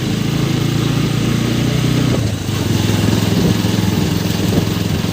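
A motorcycle with a modified exhaust rides along a road, its engine droning loud and steady throughout with a brief dip partway, no talk over it.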